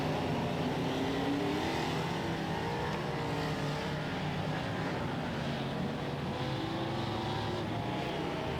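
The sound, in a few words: race cars coming around the track at Waikaraka Park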